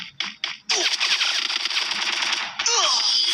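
Rapid automatic gunfire in a close-range one-on-one duel in a shooting video game: a few short bursts, then a sustained, loud, dense stream of shots.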